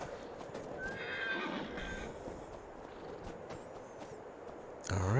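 In Farming Simulator 22, a game horse gives a short whinny while hooves clip-clop steadily on the ground, fairly faint, ending with a louder snort-like neigh at the close.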